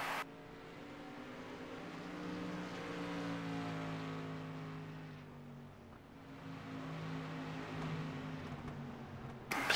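Street stock race cars roar around an oval track in a late-race battle, several engines droning together with rising and falling pitch as cars pass, steady and fairly distant.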